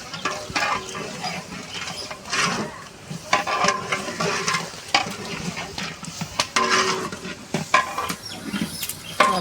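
A cook tempers mutton biryani masala in a large pot, with loud close sizzling, clattering and scraping stirring strokes and occasional metallic knocks, in an uneven rhythm.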